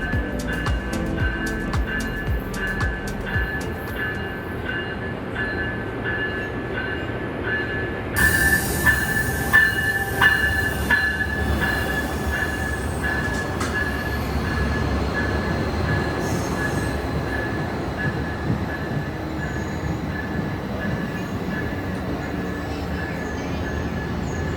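A double-decker passenger train on the San Francisco to Los Angeles coastal route rumbles and rattles alongside a platform, with squealing wheels and a steady high whine; the noise swells midway as cars roll past.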